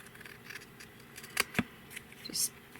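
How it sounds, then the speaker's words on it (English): Scissors trim excess leather from an embossed leather cover in a few quick, close snips with faint handling noise between cuts. "And then I am going to trim the excess."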